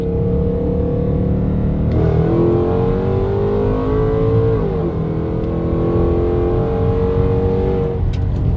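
A car with a built supercharged Hemi engine, a bypass valve and a jet reinstalled, holds a loud, close, continuous engine drone whose pitch climbs and dips as it accelerates while locked in second gear.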